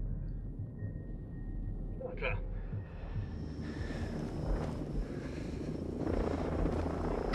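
A low, continuous helicopter rotor drone from the video game Ghost Recon Breakpoint hums steadily in the background, with a brief sharp burst near the start and a voice speaking over it.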